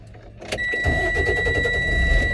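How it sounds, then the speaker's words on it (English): A truck at an air brake training school starts up: a short starter crank, then the engine catches at about half a second and settles into a loud, steady close idle with a faint whine running throughout. "I'm going to start the truck."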